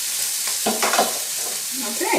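Peppers and onions for fajitas fry in a pan, giving a bright, close, steady sizzle with small crackles and stirring scrapes; a voice speaks briefly.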